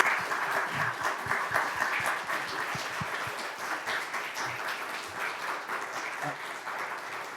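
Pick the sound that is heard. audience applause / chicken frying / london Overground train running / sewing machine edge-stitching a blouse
audience applause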